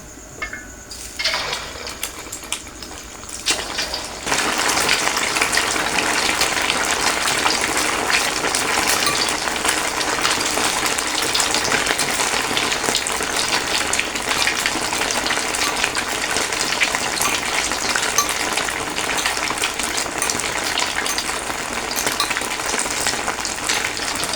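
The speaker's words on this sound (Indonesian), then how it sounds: "Ini siap kita goreng lagi." Oil bubbles and sizzles steadily as sempol deep-fries, a dense continuous crackle after a brief quieter start with some clatter.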